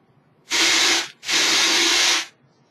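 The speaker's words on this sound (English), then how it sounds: "put the air hose on the hole. That blows air from here, and as you see, it pops it right out" Compressed air hose blasting air through a screw hole in a fiberglass nacelle mold, two loud, steady hissing bursts close up, each about half a second to a second long, separated by a brief gap.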